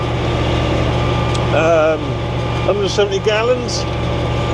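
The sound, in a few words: Ford FW30 tractor engine running while driving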